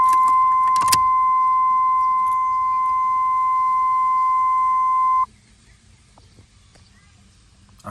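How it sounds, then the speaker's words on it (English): A 1992 Camaro Z28 fuel pump primes at key turn after work on the gas tank. A brief key jingle comes first, then a steady, thin electric whine holds for about four seconds before cutting off to near silence. "I heard the fuel pump."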